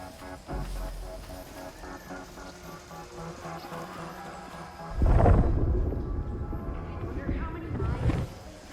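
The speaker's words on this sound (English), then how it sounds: "I reckon it's that approaching storm." Thunder rumbles from an approaching storm in the video game Unknown 9: Awakening, a loud low roll swelling midway through and fading, over a steady ambient bed.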